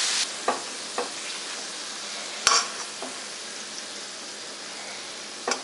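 Ground beef frying in a pan for piroshki filling, a soft continuous sizzle broken by a few sharp spatula scrapes and clicks, close but moderately quiet, with no talking.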